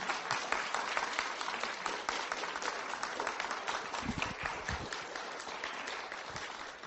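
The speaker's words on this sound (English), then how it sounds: "So now you can applaud again for it." Audience applause at a youth-led Pride church service, a continuous wash of many hands clapping heard from some distance at a moderate, even level, with a few louder nearby claps.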